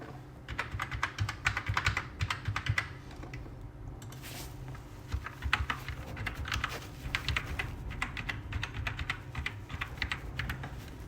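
Rapid clattering keystrokes on a computer keyboard while entering a user ID and password on a visa appointment login page, steady typing with a brief pause midway, close and fairly quiet.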